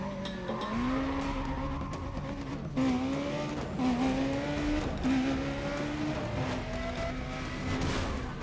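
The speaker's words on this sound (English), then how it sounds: "This is supposed to be the Porsche Carrera" Engine roar of a Porsche Carrera racing in the video game Need for Speed: Undercover, revving in steady rising sweeps with shifts and brief tire screeches, loud and continuous throughout.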